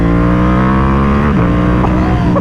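Ducati Panigale V2 twin-cylinder motorcycle engine revving loudly and close, a steady throbbing drone whose pitch shifts as the throttle rises and falls over a couple of seconds, with no talking.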